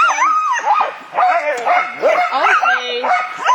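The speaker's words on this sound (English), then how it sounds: "I want to see the dogs wanting to go. They're telling me, let's go." Sled dogs eager to run make a loud, close, overlapping chorus of yips, whines and barks, a dense excited racket with no pauses.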